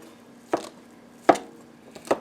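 A cleaver chops cooked chicken into rough pieces on a board, three sharp, separate thunks about a second apart, close and loud in a quiet kitchen.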